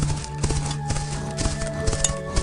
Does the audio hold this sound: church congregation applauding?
no